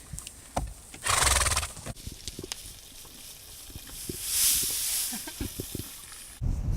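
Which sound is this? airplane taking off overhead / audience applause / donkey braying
donkey braying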